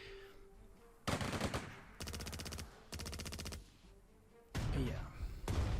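Artillery and rapid gunfire from the Panzer Strategy video game come as several loud, dense blocks of repeated shots lasting about a second each, separated by short quieter gaps of game background.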